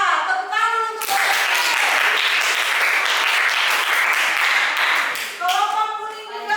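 Classroom applause for a student team in a game tournament lesson, a dense burst of many hands clapping for about four seconds, framed by a teacher's voice speaking before and after.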